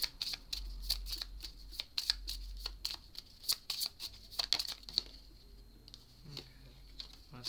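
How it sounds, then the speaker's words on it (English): A deck of tarot cards being shuffled close by, with bursts of riffling and papery slaps coming in rapid clusters and short pauses between them. "Let's shuffle again."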